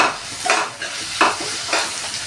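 Ginger garlic paste frying in a pan, heard as a close sizzle with several stirring scrapes at a slow, uneven pace.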